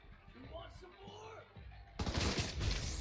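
A loud, abrupt gunshot blast in The Division 2 follows a couple of seconds of quieter sound, with its noisy echo lingering to the end.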